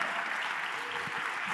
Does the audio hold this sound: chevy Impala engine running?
no